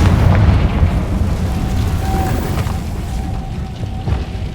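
Confringo fire spell blasts in the Hogwarts Legacy video game, a deep booming explosion that rolls continuously with rumbling low-end bursts throughout, no talk present.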